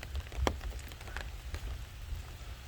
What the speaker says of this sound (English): And it's a light rain